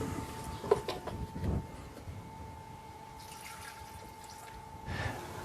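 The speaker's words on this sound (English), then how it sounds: "add just enough water to cover them" Water being added to a wide pot of ground leaves, heard as a few soft drips and splashes over a quiet background hum, faint and close.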